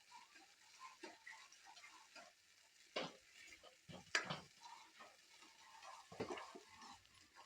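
Spices roasting in hot oil in a pan over high heat, with faint frying sizzle and intermittent louder clatters of stirring against the pan, no talk.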